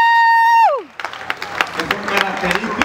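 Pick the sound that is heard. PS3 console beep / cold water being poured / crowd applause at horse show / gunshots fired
crowd applause at horse show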